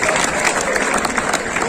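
Applause from an indoor crowd aboard the cruise ship Grand Princess, dense steady clapping from many hands, loud and unbroken for the short stretch.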